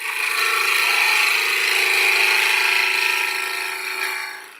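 A dull woodturning gouge cuts into spinning wood on a lathe, making a continuous, close, scraping rasp that stays loud and steady before tapering off at the end.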